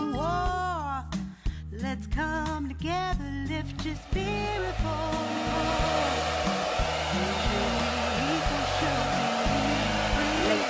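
A hair dryer runs steadily as a continuous loud whoosh, starting under music with singing and then carrying on alone for several seconds.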